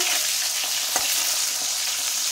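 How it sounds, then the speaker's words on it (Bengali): Close, steady sizzle of sliced pointed gourd frying in a pan, with a single sharp clink of stirring partway through. "পটল ভাজা রান্না করছি"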